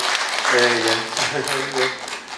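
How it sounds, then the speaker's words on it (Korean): An audience clapping to welcome guests at a local gathering, a bed of steady applause running under a voice that talks over it throughout. "박수 좀 보내주세요."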